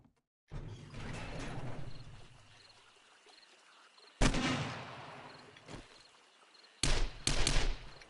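Three bursts of automatic gunfire from an AK or SMG ring out in the game 7 Days to Die, each a sustained rattling volley with quiet gaps between, the first longest.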